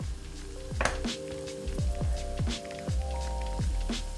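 Chopped carrots, onions and celery, salted, sizzle in a hot pot over high heat, with a steady crackling hiss broken by repeated soft clanks and stirring knocks.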